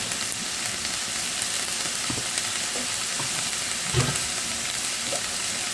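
Turmeric and other ground spices frying in a pan for a tomato singi fish curry, giving a continuous close sizzle with a few stirring scrapes and knocks.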